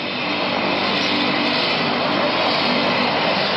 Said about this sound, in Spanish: A bordo de un helicóptero del Estado de México fue llevado un elemento de la Marina identificado como Luis Alberto García Reyes